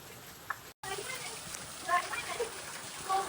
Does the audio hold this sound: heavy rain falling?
yes